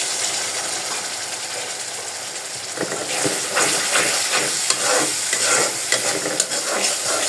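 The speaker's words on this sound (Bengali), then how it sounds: "এখন মশলাটা ভালোভাবে কষুক।" Spice paste fries and sizzles in a pan for a fish and broad bean curry, a steady loud hiss broken by scraping stir strokes that grow busier and more rhythmic partway through.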